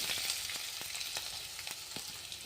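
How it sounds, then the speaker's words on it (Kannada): Urad dal, chana dal, onion and chilli fry in hot oil with a steady close sizzle, broken by occasional sharp crackles and pops from the pan. "ಚಂದಾಗೆ ಗೋಲ್ಡನ್ ಕಲರ್ ಬರೋವರೆಗೂ ಫ್ರೈ ಮಾಡ್ಕೊರಿ"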